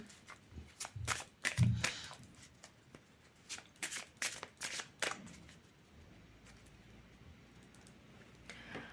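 Tarot cards shuffled by hand for a three-card spread, quick riffling bursts and soft slaps in clusters, close and fairly quiet, trailing off into near silence.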